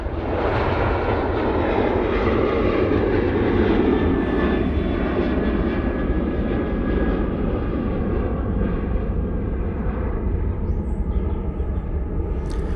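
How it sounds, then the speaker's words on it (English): A Ryanair Boeing 737 departs Manchester Airport in low visibility, its jet engines a loud, steady roar that holds strong throughout before slowly easing, with no voices over it. "Ryanair 737 departing."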